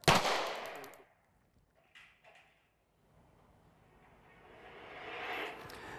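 A gunshot cracks sharply at the start of an iMarksman video training simulator scenario, close and loud with a decaying echo, followed by quiet clicks and a rising background swell.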